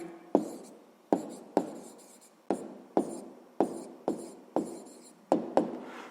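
A pen or chalk writes a math solution by hand in a series of about ten short scratchy strokes. Each stroke starts with a sharp tap and fades quickly, close up, with no talking over them.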